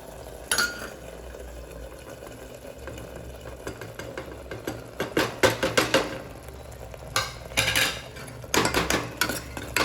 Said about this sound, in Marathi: आता हे मसाले मिक्स करून घेऊ